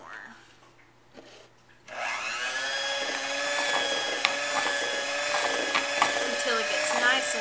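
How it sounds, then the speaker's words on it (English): Fourth of July cupcake batter mixed with syrup by an electric mixer, a quiet start followed by a steady motor whine that rises and holds, close and loud. "And we're just going to mix that together"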